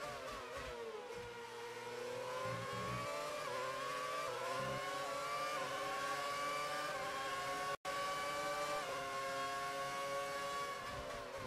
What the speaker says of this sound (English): their engines make that wonderful screaming noise